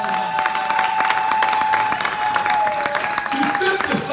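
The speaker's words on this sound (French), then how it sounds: "Est-ce que tu peux donner une bonne acclamation pour toi-même?" A church congregation in a hall applauding and cheering, dense sustained clapping from a crowd with shouts mixed in and a voice talking over it.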